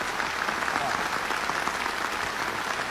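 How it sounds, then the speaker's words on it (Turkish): Students at a university clap together in a classroom, a dense, even burst of applause lasting the whole moment, close and fairly loud, with faint voices mixed in. "Bir alkış verelim."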